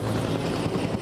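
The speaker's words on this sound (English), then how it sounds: "Here comes the helicopter." Firefighting helicopter moving in over a backyard brush fire for a water drop, a steady low rotor thrum and broadband roar held at constant loudness for a second, no voices.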